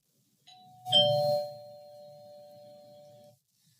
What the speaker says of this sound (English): the ding dong means we're beginning a new thing